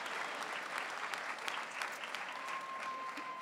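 A graduation convocation audience applauds magna cum laude graduates, a dense, steady burst of clapping from a large crowd that lasts throughout without any voices.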